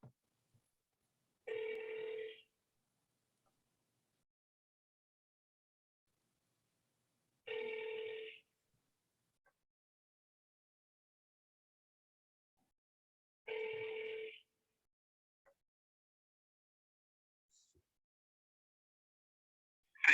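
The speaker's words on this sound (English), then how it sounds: "Yeah, I'm calling Senator Cornyn" A telephone rings out three times at steady six-second intervals while a call is placed to a senator's office, each ring a short bright burst separated by silence.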